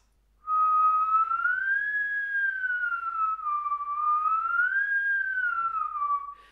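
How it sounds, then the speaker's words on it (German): A single sustained human whistle, clear and close, gliding slowly up and down in pitch for several seconds without a break. "indem du pfeifst."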